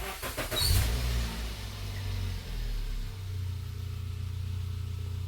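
A petrol Toyota Aygo 1.0 engine is started with the key: a short burst of cranking, then the engine catches and settles into a steady, quiet idle close by.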